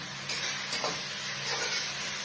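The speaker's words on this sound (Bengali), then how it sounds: "পেঁয়াজটা ভাজা হয়ে গেছে" Onions sizzle steadily in a hot pan, a close, continuous crackling hiss that swells slightly as they are moved around.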